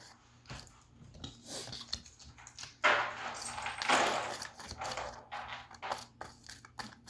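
A tarot deck being shuffled by hand, close-up, with repeated papery riffles and slaps, the loudest sustained burst in the middle, over a faint room hum.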